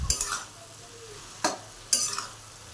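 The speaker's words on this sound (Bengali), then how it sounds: "একটু কালারের লঙ্কার গুঁড়ো দিয়ে আবার একটু নেড়ে দিলাম" Cabbage with chili powder fries in a pan under a low sizzle, while three distinct metal-on-pan stirring scrapes come at uneven intervals, close and clear, with no talking.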